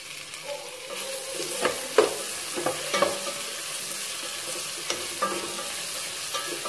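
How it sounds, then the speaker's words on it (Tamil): Onions, curry leaves and tomatoes sautéing in a pan for kurma: a soft, steady sizzle broken by several light scrapes and clinks of a spoon stirring, close and without talk. "வெங்காயம் கொஞ்சம் நல்லா வதங்கட்டும் இப்போ தக்காளி போட்டுடலாம் ஒரு மூணு தக்காளியை"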